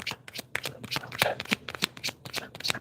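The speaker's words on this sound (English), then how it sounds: "I like shuffling this way." Tarot cards being shuffled by hand, a rapid series of close, crisp riffling and slapping bursts in an irregular rhythm, with no talk.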